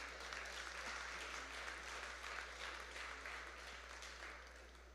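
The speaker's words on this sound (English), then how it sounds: "that deserves an applause" An audience at a cultural award ceremony applauds, a faint, steady wash of many hands clapping that slowly fades toward the end, over a low constant hum.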